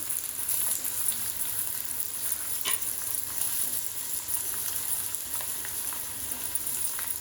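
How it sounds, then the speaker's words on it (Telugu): Potato, green chili and groundnuts fry in a pan with a continuous close sizzle, a few scraping stirs and light taps cutting through, and no voices. "ఇప్పుడు గ్రీన్ చిల్లీ కొంచెం వేగిన తర్వాత పొటాటో వేస్తున్నామండి"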